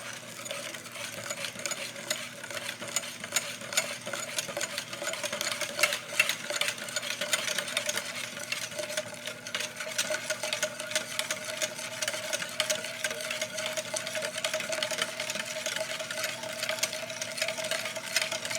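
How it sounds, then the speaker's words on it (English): A whisk beats egg yolks, sugar and vanilla for chocolate creme brulee in a bowl, making a fast, steady, rhythmic clatter that carries on evenly throughout, fairly soft and close. "And I'm going to whisk this together."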